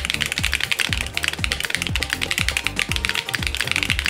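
Steady, fast clacking of keys typed on a mechanical keyboard with soft, cushiony bottoming out, a dense run of close, crisp taps with no talking.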